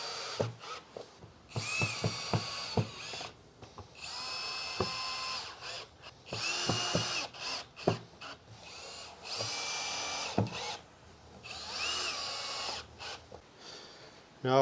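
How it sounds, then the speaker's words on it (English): A drill or screwdriver drives screws into a window frame set in a steel door, with repeated short whirring bursts and pauses between them, fairly quiet and close. "screwdriver or drill rather than an impact driver."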